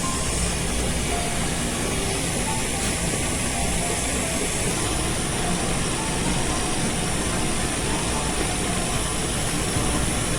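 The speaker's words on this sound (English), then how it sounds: "And then we will beat this at low speed so that the flour doesn't fly all over." An electric mixer beating cookie dough at low speed, a continuous dense whirring hum that stays steady and fairly loud throughout with no pauses.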